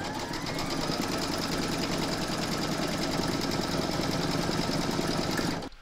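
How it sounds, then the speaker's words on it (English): An embroidery machine stitches a courthouse steps log cabin quilt block coaster in the hoop, a steady rapid mechanical whirr, close and loud, running without pause before stopping at the end. "Pop it back into your machine and stitch round number 9"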